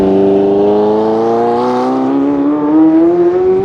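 Ferrari F40 with its 2.9-liter twin-turbocharged V8 driving, a loud steady engine drone from inside the car as the revs climb smoothly, with no talk.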